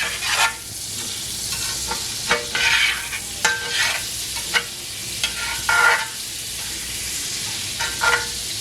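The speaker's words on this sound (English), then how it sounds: "I like to saute my onions in butter." Onions sauté in half a cube of butter mixed with oil for smothered pork chops, giving a steady close sizzle broken by regular scraping stirs.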